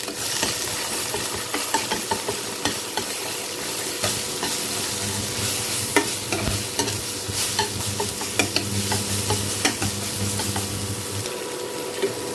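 Eggs scrambled with a little salt hiss and crackle steadily in a hot pan, with frequent scraping and clinking of a spatula as the mixture is stirred.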